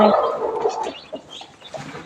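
A brooding hen set on eggs to hatch chicks makes a close, low, throaty churring growl, then fades to a few short, faint clucks.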